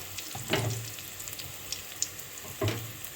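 Pabda fish with salt and turmeric sizzles softly in a hot pan, with a few scraping stirs and small bursts of spattering oil.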